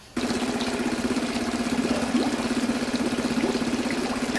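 A rebuilt Suzuki 2.5 outboard motor starts and runs at a steady idle, a close, even buzzing drone with rapid regular pulsing and some splashing water behind it.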